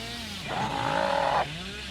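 A chainsaw revs up sharply for about a second in a video game, a buzzing whine that rises and drops back to a low idle, with game-like engine tones underneath.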